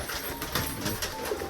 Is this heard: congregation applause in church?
no